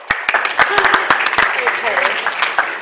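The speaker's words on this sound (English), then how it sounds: "Another round of applause." Applause from the audience at a psychology careers expo, a scattered run of claps with sharp separate hits over a busy room, a few voices talking underneath.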